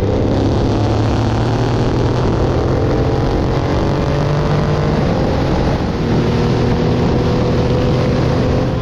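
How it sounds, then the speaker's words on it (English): A Harley-Davidson motorcycle running at high speed, around 160, on a backroad in Thailand, with a loud continuous engine drone and heavy wind rush throughout. "Just seeing what speed the Harley could do, but only got up to about 160."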